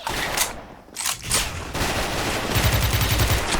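Video-game HK416 rifle fire: several loud bursts of gunfire, then a rapid sustained automatic volley near the end, with no voices.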